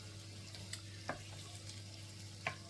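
Bacon frying in a pan for a Scottish breakfast gives a steady, close sizzling hiss, with a few faint scrapes and ticks of stirring over it and no talking.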